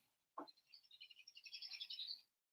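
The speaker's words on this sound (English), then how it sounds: "It's a loud bird." A loud, close bird chirps in a quick run of bright, high notes that lasts about two seconds, following one sharp lower call at the start.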